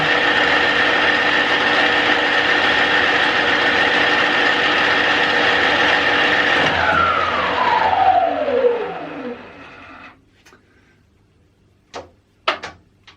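A 1977 Schaublin 13 lathe runs loud and steady at its top speed of 2000 RPM with a constant high whine, then spins down with a falling pitch and goes quiet, followed by a few brief clicks and knocks.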